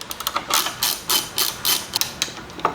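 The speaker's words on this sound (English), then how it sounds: "go ahead and use a 7/16 socket" Ratchet wrench with a 7/16 socket backing out bolts on the plate above the monoshock of a Harley M8 Softail: close, crisp bursts of rapid clicking, about a dozen short runs with brief pauses between.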